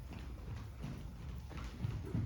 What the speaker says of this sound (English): We've got a good rhythm there at the canter.